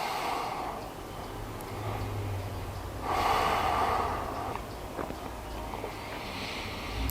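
Slow, deep breaths held in a yoga bridge pose, heard as long airy inhales and exhales close to the microphone in a quiet room, with no talking.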